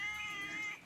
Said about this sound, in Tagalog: Yung mga pusa natin.